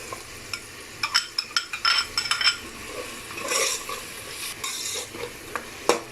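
Chopped green chilies stirred into a frying tomato masala for a pumpkin and lentil dish, giving a soft sizzle under repeated spatula scrapes and light metallic taps against the pan, close and fairly quiet.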